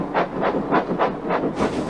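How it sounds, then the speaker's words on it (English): A Christmas Express train runs along the track, its rhythmic clickety-clack of wheels over rail joints pulsing steadily and loudly, close by and alone. "Murdoch is there taking the Christmas Express"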